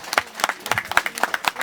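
Scattered hand claps from an audience, a few uneven bursts of applause over about two seconds, moderately loud and close.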